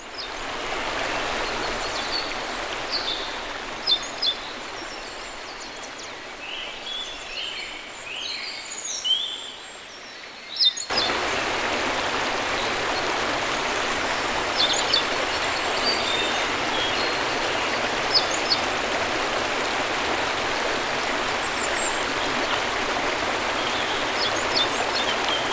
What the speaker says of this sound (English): All right, we made it to the massive waterfall.